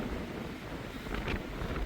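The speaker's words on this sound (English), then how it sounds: "It's getting windy in the Wind River range." Steady wind buffets the microphone outdoors in the Wind River Range, a continuous low rumble with a brief gust swelling near the end.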